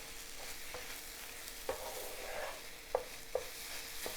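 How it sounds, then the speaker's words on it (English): Eggs and tomatoes frying and being stirred in a pan, a steady soft sizzle with a few sharp scrapes of the utensil scattered through; no voices. "There, it's cooking, you see. It's just like scrambled eggs, but with tomatoes"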